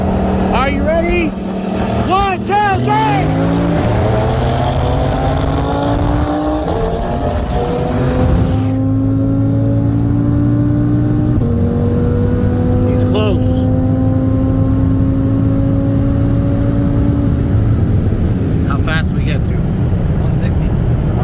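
A 2018 Mercedes C63 S AMG with bolt-ons on E30 and a 2018 Audi RS3 with full bolt-ons on E85 accelerate hard from a 45 mph roll in second gear, loud rising engine roars climbing through shifts, close and sustained.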